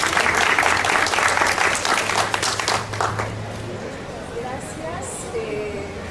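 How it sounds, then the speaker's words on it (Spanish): A lecture-hall audience applauds a university professor at a book presentation, a dense, steady round of clapping that tapers off toward the end, with a voice briefly heard over it. "Por favor, un aplauso."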